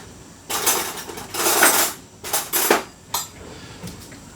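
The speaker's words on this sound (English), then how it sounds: "So I'm going to give this pasta a mix now with a stiff spoon, like a metal spoon." Pasta stirred in a pot with a stiff metal spoon for chicken cacciatore, giving several close scraping, clattering bursts of metal against the pan separated by short pauses.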